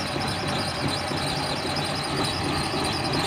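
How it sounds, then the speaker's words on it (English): A six-cylinder John Deere diesel engine powers a 1980 Harlo HD4500 forklift, running nearby in a steady, unbroken drone with low rumble and a faint high whine throughout. "Six cylinders John Deere"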